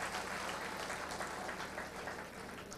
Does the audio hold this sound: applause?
yes